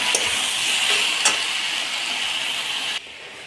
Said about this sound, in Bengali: এই মশলা দিয়ে দেওয়ার পর একটু কষিয়ে দেবো।